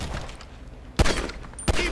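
Gunfire erupts during a gang shootout in Grand Theft Auto 5, two sharp, loud, close blasts about a second apart after a quieter stretch.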